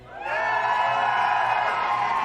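At a Valorant VCT Americas Kickoff esports event, a large crowd shouts and cheers to vote by noise, rising quickly into a loud, steady wall of whoops and yells that barely dips before tapering slightly at the end.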